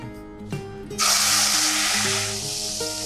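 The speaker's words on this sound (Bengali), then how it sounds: "ফোড়নটা হয়ে গেছে, এবার আমি মাংসটা দিয়ে দিচ্ছি।" Marinated meat dropped into hot oil over tempered spices, bursting into a loud, steady sizzle that hisses on for a couple of seconds, with a faint voice and light clinks before it starts.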